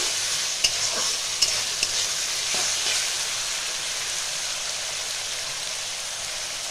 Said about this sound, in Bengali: এইটাও আমি 2-3 মিনিট ভালো করে ভাজবো।